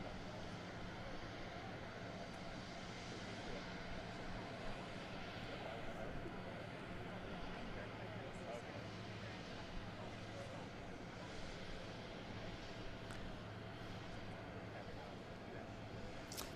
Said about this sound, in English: that is a plane that lots of people are tracking